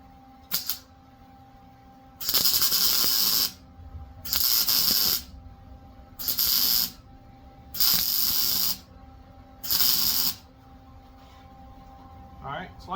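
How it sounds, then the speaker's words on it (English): Spot welds being burned into the outer baffle panel of a 1993 Cobra Fox-body Mustang barn find, with five loud crackling bursts of roughly a second each, separated by short pauses. "we're burning a couple of these spot welds in"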